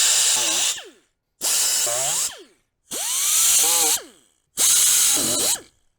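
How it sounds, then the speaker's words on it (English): Die grinder cutting a hole with radiused corners into a pontoon boat panel for electrical accessories, running in four separate high-pitched whining bursts of about a second each, with short silences between and pitch sagging as the tool bites. "now we'll cut out with the die grinder."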